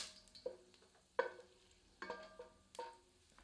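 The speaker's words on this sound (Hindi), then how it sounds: "गर्म तेल में साबुत सूखे मसाले सम्मिलित करते हैं और इन्हें कुछ क्षण भूनते हैं" Whole dry spices fry in hot oil for a traditional Uttar Pradesh-style Azamgarhi mutton curry. A few soft sizzling bursts and light clinks come at intervals, quiet and close, with no talk.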